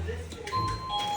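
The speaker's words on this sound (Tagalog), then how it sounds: "Yung doorbell." A doorbell gives a brief, bright chime indoors while voices speak.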